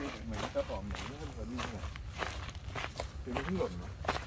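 Footsteps on a night trail at Khao Chalak, descending slowly among fallen bamboo leaves, sound as soft uneven scuffs under steady talk and the quiet hiss of the forest.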